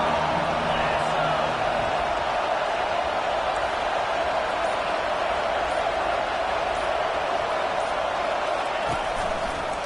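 A college football stadium crowd roars steadily behind the defense on a big third down, a dense, far-off wall of cheering and whooping that runs the whole time under a commentator's voice.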